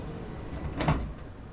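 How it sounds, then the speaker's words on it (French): A bus door closing in the Bus Simulator 21 video game, a single short mechanical swish and thud that rises and fades over a steady engine hum. "On ferme la porte."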